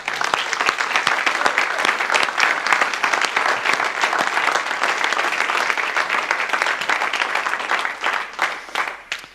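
Steady, dense audience applause honoring the sound engineer, many hands clapping at an even level for about nine seconds with no talk, thinning slightly at the end.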